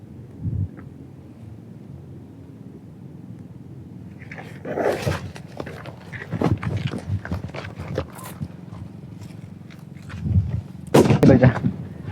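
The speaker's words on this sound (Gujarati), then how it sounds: "2 બમ માંથી ખાલી એક જ ફૂટો છે." VIP bomb firecrackers set off in a one-foot pit dug in the ground: a short thump early, then sharp bursts and crackling blasts, the loudest cluster near the end, outdoors with little talk.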